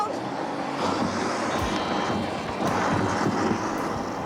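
A homemade rocket motor fueled with gummy bear candy fires, giving a continuous rough roaring rush with no clear pauses that holds fairly steady at a loud level throughout.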